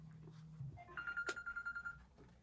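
A phone goes off during a podcast recording: a brief, faint electronic ringtone with a quick pulsing chirp pattern, heard alone in a quiet room.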